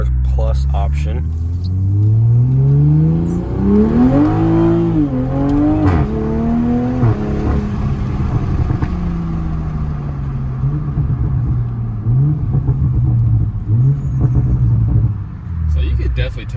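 A Toyota A90 Supra in Sport Plus extra boost mode accelerates hard from inside the cabin, its engine note climbing through rising revs, dipping at shifts and climbing again, loud and close, with people talking over it.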